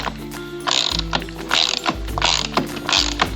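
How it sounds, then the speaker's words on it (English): A hand ratchet tightens a locking nut while a Moderno Kids Raptor is put together, giving four quick bursts of close, crisp clicking with short pauses between them and no voices. "Now we're going to install our locking nut. Again, remember we only need our ratchet or our wrench"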